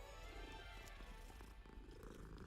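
A cat in the video game Hogwarts Legacy purrs steadily while being petted, a continuous low rumbling purr that is soft and close with no talk over it.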